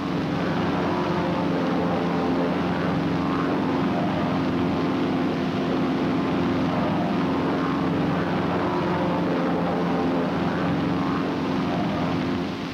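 Several US Navy propeller aircraft flying together in a parade V formation, a steady, continuous engine drone with a low hum that stays loud and even throughout, no voices.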